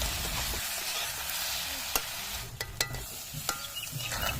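Pork and masala stirred in a pan in a village kitchen: a soft, continuous sizzle broken by several sharp scrapes and clinks of the spoon, fairly quiet and close.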